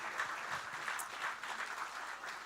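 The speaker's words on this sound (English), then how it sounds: "Let's give them another round of applause." Audience applause at a youth entrepreneurship national grand final honouring teachers, a steady, dense wash of many hands clapping that holds evenly throughout without voices on top.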